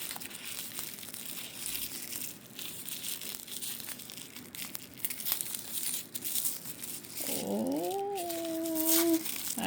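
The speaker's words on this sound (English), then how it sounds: "All right, let us get this unwrapped." A package is unwrapped with crinkling and tearing of paper or plastic wrap close by, and a cat meows near the end.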